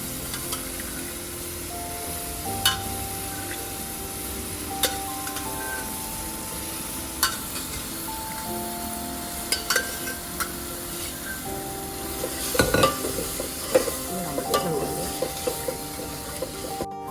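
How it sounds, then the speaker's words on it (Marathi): Chickpeas sizzle in oily gravy for Nagpur-style tarri poha with a constant soft frying hiss, a few clanks of a utensil, and light music playing underneath. "या ग्रेव्हीला तेल सुटत आहे. तर आता आपण चणे टाकूया."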